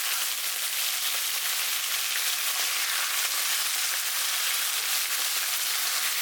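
Beef strips sizzle steadily in a hot pan during a stir-fry with bok choy, a dense, continuous hiss of frying held at an even level throughout with no talking.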